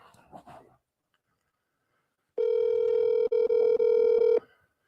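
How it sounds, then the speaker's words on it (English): A telephone call ringing out, heard after a short burst of indistinct voice: a loud, steady electronic ring tone lasting about two seconds with a brief break partway through, close to the phone's speaker. "I hope he answered his phone"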